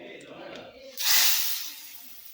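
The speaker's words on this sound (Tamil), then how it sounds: "இதை தாளிச்சிட்டு சாம்பாரில் கொட்டிடலாங்க" Hot oil sizzles loudly as a tempering of mustard seeds, urad dal, dried red chilies and curry leaves is poured into tiffin sambar, a sudden burst of hiss that swells and slowly fades after a moment of quieter kitchen sounds.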